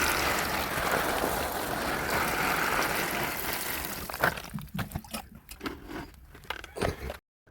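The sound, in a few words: water being poured into plant cuttings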